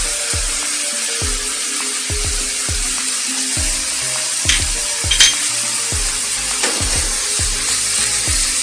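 Noodles frying in a pan with pepper and salt while being stirred, a steady loud sizzle with rhythmic scraping strokes of a utensil against the pan and occasional metallic clinks.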